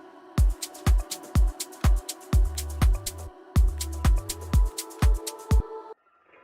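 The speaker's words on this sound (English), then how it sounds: "Bells." A synth bells preset for an organic house track plays a steady sequence of bright, ringing bell notes, about two per second, each with a sharp attack and shimmering decay over a low sustained pad, loud and alone.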